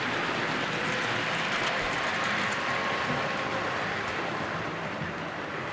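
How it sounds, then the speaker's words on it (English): Model gas turbine locomotive running along a layout track, a steady faint rumbling whir with light rail noise, continuous and fairly distant, no talking. "Finally, the gas turbine gets round here."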